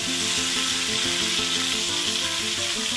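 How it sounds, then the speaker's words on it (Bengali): Green chili paste frying in oil left over from frying rohu fish, a loud, dense continuous sizzle with faint stirring, close up and without talk. "এবার ওই মাছ ভাজার তেলেই দিয়ে দিচ্ছি 2 চামচ কাঁচা লঙ্কা বাটা।"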